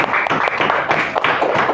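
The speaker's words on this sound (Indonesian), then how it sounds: "Tepuk tangan untuk kalian semua." A class of students claps briefly, with quick irregular hand claps in a close, dense cluster lasting under two seconds.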